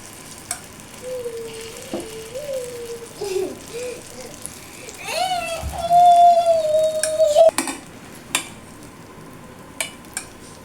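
Corn paniyaram batter sizzles in a hot paniyaram pan, a steady bright frying hiss running throughout with a few clinks and scrapes, and tonal kitchen sounds layered over it midway.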